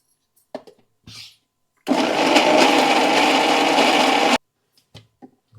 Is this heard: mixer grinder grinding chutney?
yes